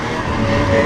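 Ski-Doo Formula Z 583 snowmobile running close by, a loud, rough engine drone that swells slightly over a brief moment.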